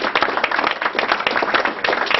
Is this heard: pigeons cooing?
no